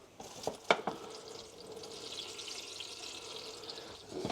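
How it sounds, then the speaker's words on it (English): Water is poured into the bottoms of seedling trays holding broccoli and melon sprouts, a faint trickling and splashing with a few small clunks near the start. "And let's give them some water at the bottom."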